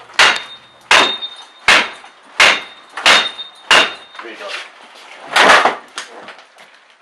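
A JTC Claw prying tool works on a door lock cylinder with about six sharp, loud metallic strikes at a steady pace, followed by a duller scraping knock as the cylinder comes free. A voice speaks briefly.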